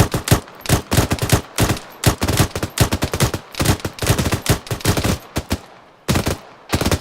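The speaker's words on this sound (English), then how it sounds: "Open fire." Gunfire in the ArmA 3 military game erupts in rapid, loud bursts of rifle and machine-gun shots, dense volleys with short pauses between them and a final burst after a brief lull.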